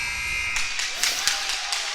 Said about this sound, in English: The buzzer sounds, ending the game.